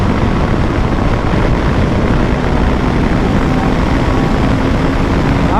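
A 2024 KTM 390 Adventure motorcycle pulls hard in fifth gear along a long straight road, its engine note a loud, continuous drone mixed with heavy wind rush.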